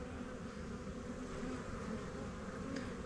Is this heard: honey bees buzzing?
yes